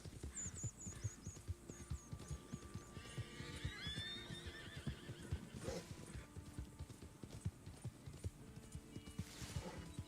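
Spotted Appaloosa horse in Red Dead Redemption, steady clip-clop of hooves close by with a whinny rising over the footfalls, ambient game hum underneath.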